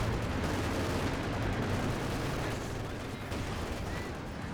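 A captured MG42 and a tank's coaxial and hull-mounted machine guns in Company of Heroes 2 fire continuously in a dense, rumbling barrage of overlapping battle noise that never lets up.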